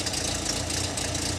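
A car engine idles steadily in a French garage in 1983 while its ignition timing is set to 10 degrees. The rumble is close, even and continuous, with no one speaking.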